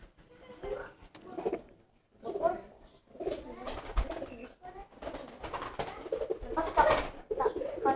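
Pigeons coo repeatedly during courtship, their soft rolling calls close and recurring throughout, while people talk over them.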